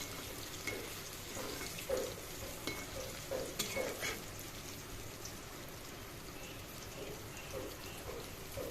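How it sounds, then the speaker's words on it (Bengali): Steady crackling sizzle of vadas deep-frying in hot oil, continuous and close, with a few sharper pops and spatters rising above the bubbling. "বড়াগুলো ভাজা হচ্ছে"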